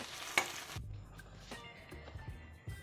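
Butter chicken frying in a pan on the stove, a soft sizzle running underneath as a spoon stirs and scrapes through it in a few brief strokes, close and fairly quiet.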